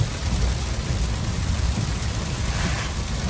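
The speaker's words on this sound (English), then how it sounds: "It's getting kind of loud and stormy and whatnot around here." Heavy rain and a thunderstorm pour steadily in a loud, continuous roar with deep rumbling underneath, close by.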